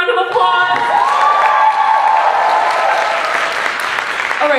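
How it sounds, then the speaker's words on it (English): Audience applause at a dance performance event, a dense, sustained wash of clapping from a crowd with some cheering and a short musical tone fading at the start. "Give it another round of applause."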